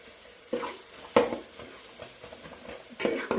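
Chicken being stirred with turmeric powder in a frying pan, a few sharp scraping strokes of a utensil over a faint steady sizzle, close and moderately quiet.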